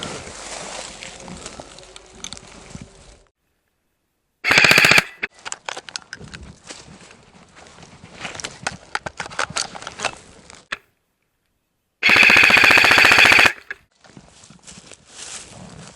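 Airsoft guns firing during a close-quarters battle game in Shumen, Bulgaria, with two loud rapid full-auto bursts nearby and scattered clicking shots and movement between them.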